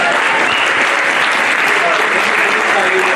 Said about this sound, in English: Kevin, a round of applause